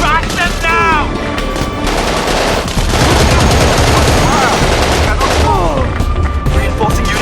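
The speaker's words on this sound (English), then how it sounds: "Medium machine gun ready for area fire" Sustained medium machine gun fire in Battlefield 2: Modern Combat on PS2, a dense, loud, continuous stream of shots mixed with battle noise and voice-like calls throughout.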